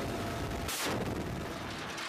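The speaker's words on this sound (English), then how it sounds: "demonstrate live fires and close air support using a GAU-17A Gatling gun, a GAU-2150 caliber machine gun, and a 70mm rocket launcher." A GAU-17A Gatling gun and a GAU-21 .50 caliber machine gun fire live from a helicopter, a continuous loud roar of rapid fire with a sharper burst near the middle.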